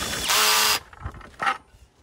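A short burst of a power drill whirring for under a second as it winds nuts down threaded rod on a garden room frame, followed by a couple of quiet clunks.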